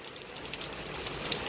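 Sudden pouring rain outdoors in dry Oregon country patters steadily in a dense hiss, with a few sharper drops standing out, fairly faint.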